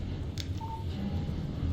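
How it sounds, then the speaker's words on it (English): A short electronic phone alert chimes once from a mobile phone in the video game Alan Wake, a brief clear tone over a low steady ambient rumble, with no voices. "Text message from Barry"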